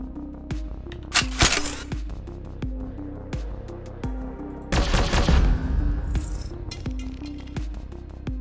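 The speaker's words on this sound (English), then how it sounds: "We'll fire with the laser cannon. And then we'll move up and fire the heavy autocannon with," Heavy autocannon and laser cannon fire in a video game, with bursts of rapid repeated shots, sharp blasts and a longer crackling barrage in the middle, loud and close.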